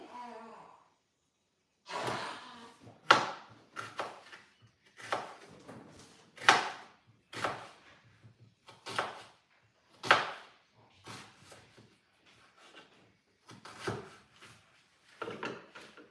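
A knife slices through an onion in a series of short, irregular cuts that land close up, with no talking over them.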